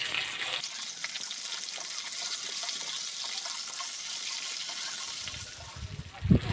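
Ginger, green chilli and cumin paste sizzling in a pan as a steady, moderately loud frying hiss, with a brief louder clatter near the end.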